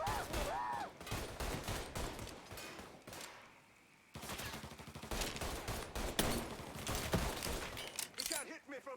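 Rapid bursts of gunfire crack through a Mafia 3 shootout, dense volleys broken by a brief lull before firing resumes, with a voice shouting over the shots.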